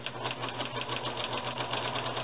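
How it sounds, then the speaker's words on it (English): Sewing machine stitching around folded paper craft, a steady close mechanical whir with faint rhythmic needle pulses throughout, no talk. "Next thing, I'll sew around it"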